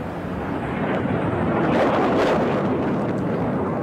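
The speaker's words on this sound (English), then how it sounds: "there's just a massive amount of fire coming to Tel Aviv right now" Distant roaring rumble from missile fire and interceptions over Tel Aviv, a broad wash of noise that swells and fades over a few seconds with a faint crackle, outdoors and without talking.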